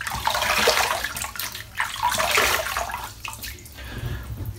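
Water splashes and runs as a face is wetted for shaving at a sink, several close, bursty splashes in quick succession with no talking.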